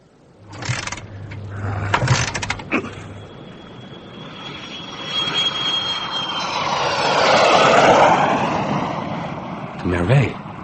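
Aircraft engine at an airfield, heard as a sound effect in a dramatized audiobook, a propeller-plane drone that swells and peaks near the end, with voices speaking briefly before and after.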